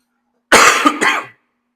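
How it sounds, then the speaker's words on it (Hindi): A single harsh cough, close and loud, split into two quick bursts, then silence. "थोड़ा खांसी हो गया।"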